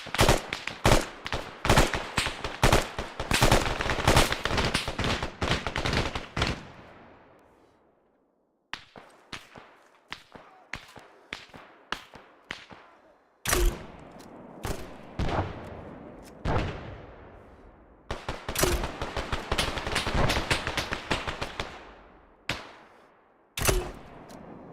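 ArmA 3 gunfire rattles in dense bursts of sharp shots, some close and loud, others fainter, with brief pauses between volleys and single cracks scattered throughout.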